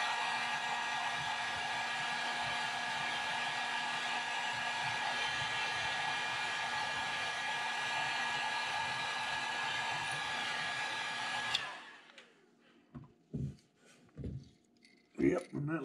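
A heat gun or hair dryer blows steadily to heat-set paint on a crankbait lure, a loud continuous whooshing hum for about eleven seconds that cuts off abruptly, followed by brief talk.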